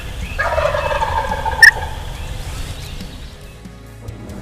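Wild turkeys gobble from their roost in the woods, one loud, close rattling gobble near the start followed by fainter calls and ambient outdoor noise.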